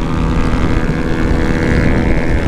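A new stock motorcycle engine running at speed during a road speed test, a loud continuous droning roar with steady tonal whine, close and unbroken for the whole stretch.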